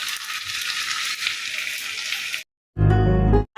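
Bhorta ingredients dry-roast in a wok without oil, a steady close crackling sizzle that holds for a couple of seconds before cutting off, followed by a brief louder, different tonal sound.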